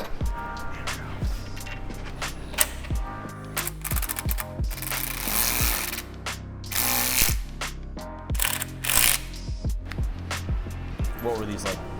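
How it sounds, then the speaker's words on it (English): A torque wrench ratchets in short clicking runs while tightening bolts on a 1969 Chevrolet C10, close and sharp mechanical clicks repeating in bursts, with a person talking in between. "I got it set on my torque wrench, so you just turn it on"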